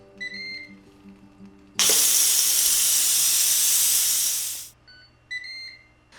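Pressure cooker venting steam during an immediate pressure release of a one-pot goulash pasta: a loud, steady hiss bursts in suddenly, holds for about three seconds and then cuts off, with appliance beeps before and after.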